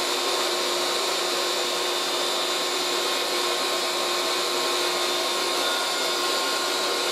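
A 1980s Moulinex Aspirateur No1 237/320 handheld vacuum cleaner runs nonstop with a loud, steady, hissing roar that holds from start to end with no voices.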